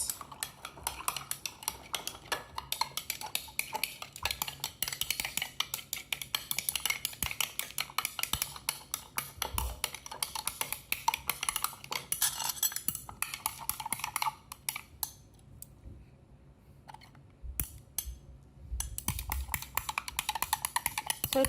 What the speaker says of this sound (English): With our 90 milliliters of water and 2 tablespoons of salt. Then give it a mix.